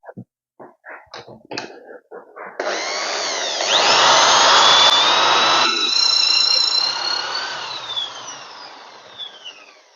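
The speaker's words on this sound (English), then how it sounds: "That is the hole drilled. I'm going to go ahead and do the other side" A power drill bores a hinge cup hole in a wooden cabinet. A few close knocks and clicks come first, then a loud, steady, high drill whine holds for about six seconds before trailing off.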